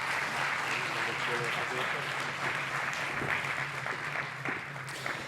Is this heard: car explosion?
no